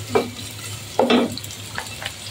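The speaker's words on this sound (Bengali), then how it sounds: "এখন আমি পেঁয়াজ কুচি দিয়ে দিলাম" Chopped onion frying in a pan for a lentil dal with rohu fish head, giving a soft steady sizzle broken by a few sharper bursts of stirring and scraping, with no talking.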